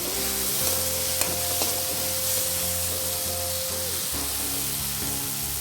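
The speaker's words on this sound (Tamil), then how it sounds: "ஸோ தக்காளி பழமும் நல்லா வதங்கட்டும்." Onions and tomatoes sauté in a pan for a ladies-finger puli kulambu. A loud, steady sizzle runs throughout, with a soft tonal hum weaving underneath and no voices.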